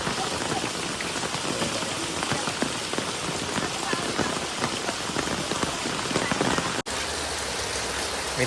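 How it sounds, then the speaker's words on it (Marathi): Heavy monsoon rain pours on surfaces in a dense, constant hiss and patter, close and steady, with a brief dropout near the end. "तेव्हा पाऊस नव्हता आता बघा पाऊस किती आहे"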